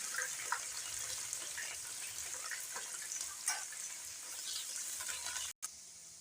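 Browned onions with fresh green fenugreek and coriander leaves fry in a pan, giving a steady close sizzle with soft stirring scrapes throughout and a brief cut near the end.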